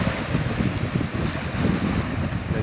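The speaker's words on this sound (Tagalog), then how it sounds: "lumalaki ang alon mga katropa" Rough sea waves churn and wash along the Dammam Corniche while someone fishes, a continuous low surging rumble with wind buffeting the microphone.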